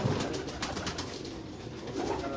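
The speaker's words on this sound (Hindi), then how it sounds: "ये कबूतरों को आप देख सकते हैं" Pigeons coo softly and repeatedly at a rooftop breeding setup in Karachi, a low burbling murmur with wing flutters and rustling nearby.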